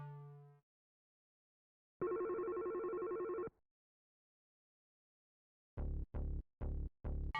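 Telephone at a roadside phone booth in the PS1 game Germs Nerawareta Machi: a short tone, then a sustained electronic ring burst, and after a pause four sharp repeated rings, loud and close with no talking.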